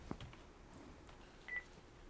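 Keypad tones on a Panasonic KX-TG175C DECT 6.0 cordless phone, a few short faint beeps as buttons are pressed, with one clearer steady tone near the end in a quiet room.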